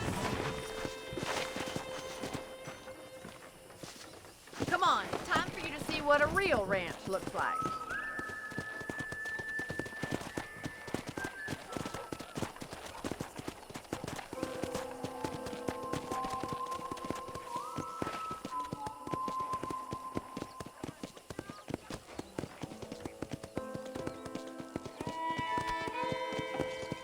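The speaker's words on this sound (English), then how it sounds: "Okay, let's see if you can still ride a horse." Horse hooves clip-clop at a walking pace during a ride in the video game Red Dead Redemption, steady and moderately close, under someone speaking and a melodic music score.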